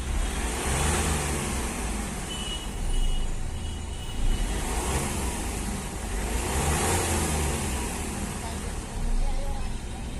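A Hyundai Xcent or Grand i10 diesel engine with knocking, misfiring and white smoke runs close by in a steady rumble with a few mild rises in revs, while someone talks over it.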